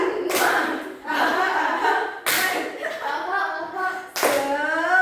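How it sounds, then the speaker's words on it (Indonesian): A school class performs rhythmic 'tepuk semangat' cheer clapping, three loud bursts of hands clapping together in a lively pattern with voices chanting along close by. "Tadi tepuk semangatnya udah sambil kayak dangdutan ya."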